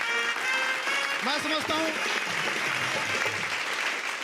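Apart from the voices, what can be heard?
audience applause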